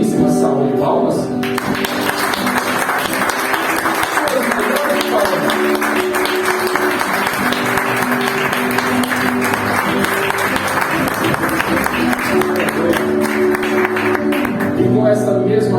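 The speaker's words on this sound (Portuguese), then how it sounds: "vamos começar este culto com uma belíssima salva de palmas" A Portuguese-speaking congregation applauds loudly to open a church service. Dense clapping runs steadily for about fifteen seconds over sustained tones that sound like music or singing.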